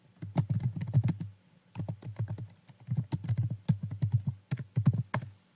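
Someone types an email address on a computer keyboard, with quick clusters of soft clicking keystrokes broken by brief pauses.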